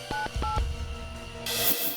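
Two short electronic keypad beeps sound one after another as a phone number is dialed, followed by low rustling handling noise and a brief hiss toward the end.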